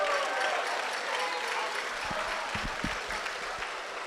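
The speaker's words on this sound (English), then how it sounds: "I want us to all give us one big hand. Everyone, one clap for all the participants." Audience at a national science quiz grand finale applauding the finalists, a steady wash of dense clapping filling the hall, with a few louder low thumps scattered through and voices faintly mixed in.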